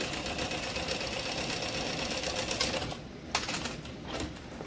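A sewing machine runs a steady, continuous top stitch along each side of a pressed-open seam, loud and close, with a brief pause and slight change near the end.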